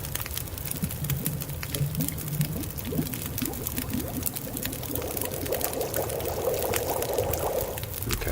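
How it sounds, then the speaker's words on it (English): Water boiling in the survival game The Long Dark, a steady bubbling, trickling wash with a low gurgle, even and close throughout. "Let's just boil up a bunch of water here."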